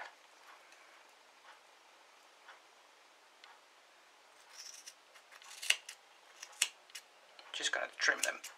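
Scissors snip yarn ends along the edges of a crocheted shawl, a few quiet sharp cuts that grow closer and more frequent toward the end, with faint soft handling between them.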